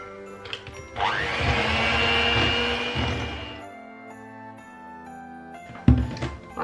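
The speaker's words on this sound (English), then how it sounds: "Then I'm meant to add 1 egg yolk and whiz it again until it is well combined" A food processor whizzes spiced Christmas biscuit dough with an egg yolk in a loud, steady whirring run of about two and a half seconds, with clinks and handling noises before and after.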